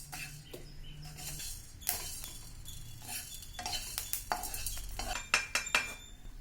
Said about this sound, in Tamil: அப்புறம் ரொம்ப கொஞ்சமாக ஒரு 1/2 டீஸ்பூன் அளவுக்கு வெந்தயமும் சேர்த்து அதையும் கொஞ்சம் நல்லா வறுத்து எடுத்துக்கிறோம்.